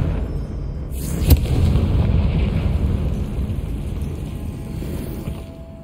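A Confringo fire-spell explosion goes off in the game Hogwarts Legacy, a sharp boom followed by a long, loud, low rumbling roar that continues steadily to the end.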